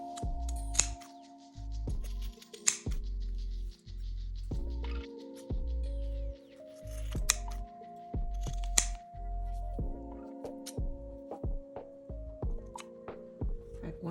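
Scissors snip through macrame cords in a handful of crisp, close cuts spaced a few seconds apart, with soft handling noise and a low steady hum between them.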